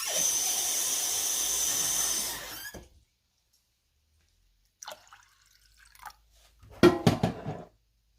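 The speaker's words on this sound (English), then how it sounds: "I'm going to add the water to it." Water pours into a pot holding one cup of soaked rice in a home kitchen: a few seconds of steady splashing rush that stops abruptly, followed by brief scattered drips, clinks and small handling sounds after a silent pause.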